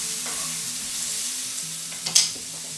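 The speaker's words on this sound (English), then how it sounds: "I'm stirring the zucchini and sweet potato." Zucchini and sweet potato are stirred in a sizzling pot: a constant low fry hiss with faint utensil movement, and a sharper scrape and clatter near the end.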